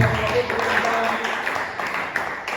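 A church congregation applauds as an offering of praise to God, a moderate burst of clapping and voices mixed with some talk, fading slightly toward the end.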